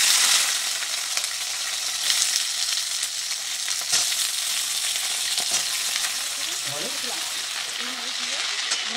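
Flat beans and potatoes frying in hot oil, a steady loud sizzle with occasional stirring clatter and light scraping throughout, no voices.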